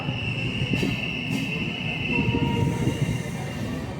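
An express train rolls into a railway station platform with a low rumble, wheel squeal and a faint horn, heard over platform ambience with distant voices.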